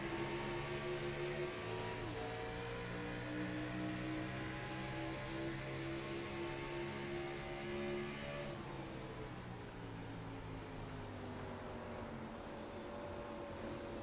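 Race car engine in the GLSR racing sim video game, a steady droning whine that holds pitch, then drops sharply on a downshift and continues lower, with no talking.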